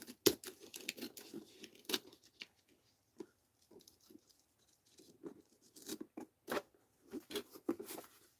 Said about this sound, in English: Let's open it. If I can with my scissors here, maybe.